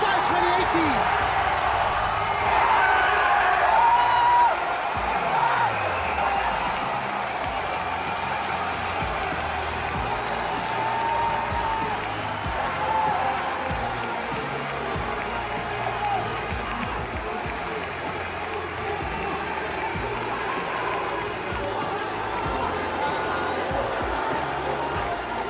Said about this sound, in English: Listen to France as they are cheering